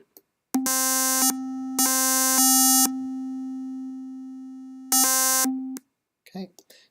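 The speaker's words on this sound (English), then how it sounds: "we heard a square wave coming from the rect object, and we heard a triangle wave coming from the tri object" Electronic tones from Max rect and tri objects: a steady buzzy square-wave hum sounds throughout, with bright harsh bursts switching on and off in several segments, then silence and a short voice at the end.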